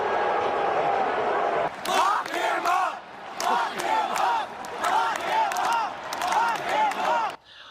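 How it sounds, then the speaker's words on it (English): A big stadium crowd at a World Series game in Washington, D.C., booing and jeering at President Trump, loud surging waves of crowd noise rising and falling in repeated swells, with shouted voices throughout. "at the World Series, the D.C. crowd heckled Trump"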